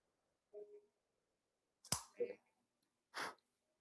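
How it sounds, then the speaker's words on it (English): Cigar cutter snipping the end off a Perdomo Barrel Aged Sun Grown cigar, a sharp single click followed by a softer snip and a faint breathy sound, with quiet pauses between. "Give this cigar a cut."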